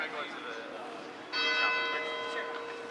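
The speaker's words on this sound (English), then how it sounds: "It's time to go. That's what that bell says." A church bell rings near the White Tower in London, a steady struck tone that swells louder partway through with a sustained shimmering ring over faint background ambience.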